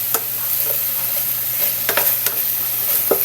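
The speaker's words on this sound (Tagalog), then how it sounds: "Pwede na natin ihalo yung ating chicken" Chicken is stirred into a hot pan, with a steady loud sizzle of frying and scraping stir strokes over it, close and continuous with no talking.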